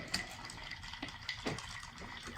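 Ice clinks and rattles as a gin martini is stirred, with light, irregular taps and swirls over a quiet background and no talking.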